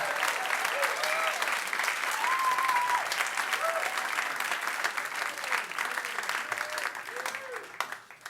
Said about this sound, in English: I'd like you guys to welcome him with a round of applause, Jim Gilson.